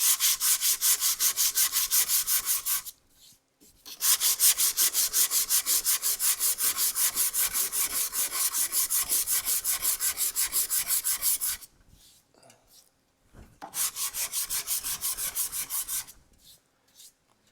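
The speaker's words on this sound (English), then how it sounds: "So I've got 220 grit on the sanding block, probably just a couple passes now and that'll be gone." Steady back-and-forth rasp of a 220-grit sanding block on wood, long rhythmic runs of strokes broken by two short pauses.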